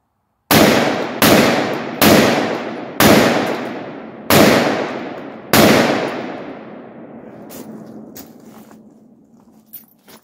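Six sharp, loud gunshots from a 7.5-inch-barrel AR-15 pistol firing .223 rounds, irregularly spaced over about five seconds, each with a long ringing decay, followed by quieter tail noise and a few faint clicks.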